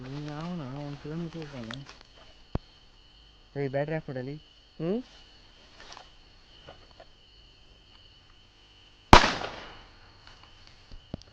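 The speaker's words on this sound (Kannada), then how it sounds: "ದೂರದಲ್ಲಿ ಯಾರೋ ಆ ಕಡೆ ಪಟಾಕಿ ಹೊಡಿತವ್ರೆ" A voice talks at first, then a single distant firecracker bursts with a sharp bang and a fading rumble on farmland where crackers are set off to drive wild boars from crops; a small pop sounds earlier.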